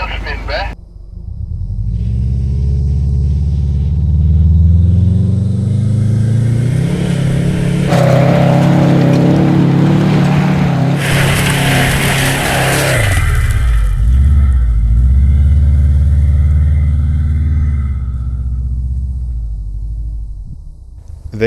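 A Subaru Forester XT with traction control off revs hard climbing a steep off-road hill, its engine roaring loud and close with rising and falling pitch and a surge of wheelspin midway, sustained throughout.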